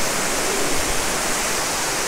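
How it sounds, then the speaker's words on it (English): Waterfall pouring down into the main water intake, heard as a loud, steady broadband rush with no breaks and no voices. "That's the main intake of water then. Comes in from this waterfall down there."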